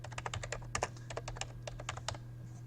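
Rapid keystrokes on a computer keyboard as a file name is entered, a quick irregular run of crisp, close clicks over a steady low electrical hum, with no speech.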